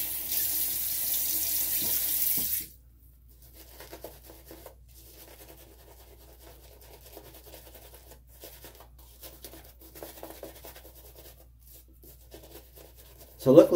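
Water runs from a tap into a sink for a couple of seconds, then cuts off, leaving quiet rustling and faint handling noises.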